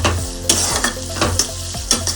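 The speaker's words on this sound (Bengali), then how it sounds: "এবার আমি ভালোভাবে পেঁয়াজটা ভেজে নেব।" Onion with a spoonful of salt fries in a little oil, a bright continuous sizzle broken by rhythmic scraping stirs of the spatula, roughly every half second, close and fairly loud.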